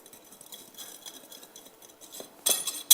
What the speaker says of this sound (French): On va mélanger cette préparation pour en faire quelque chose d'homogène.